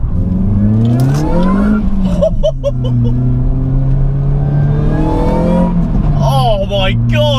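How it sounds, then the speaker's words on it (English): A supercharged 216 BHP Ford Focus engine revs loudly and close, its pitch sweeping up and down through several climbs, while a person talks over it. "Just do not expect that noise coming out of a Ford Focus."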